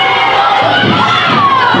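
A school crowd at a schools Gaelic football match cheers and shouts continuously, loud and dense, with excited young voices blending into one sustained roar.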